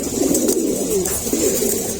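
Eight pigeons, five female and three male, coo in soft, low, rolling murmurs, several birds overlapping continuously and close by, with a faint hiss of background noise.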